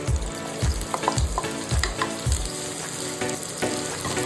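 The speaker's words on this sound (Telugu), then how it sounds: "ఇందులో కొంచెం కరివేపాకు వేసి వీటిని బాగా ఫ్రై చేద్దాం" Curry leaves sizzling in hot oil for a mutton curry, a dense crackling fry punctuated by several sharp stirring scrapes in the first half, then a steadier sizzle.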